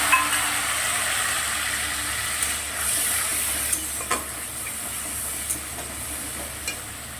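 Mustard paste and ginger-garlic paste frying in a pan for a prawn malai curry, a steady close sizzle broken by periodic scraping and tapping of a spoon as it is stirred.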